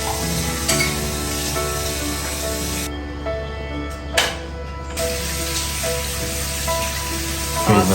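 Food sizzles and crackles steadily in a hot pan at a campsite in Gerik, Perak, close and loud, with a constant low hum underneath.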